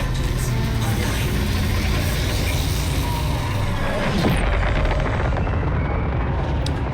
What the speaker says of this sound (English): Engines online.